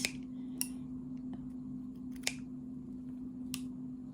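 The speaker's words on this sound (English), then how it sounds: "when you are cutting, make sure that you don't cut zigzag. Make it straight" Scissors cut fabric for a French seam, giving a few sharp, isolated snips spaced well apart over a steady electrical hum, with no talking.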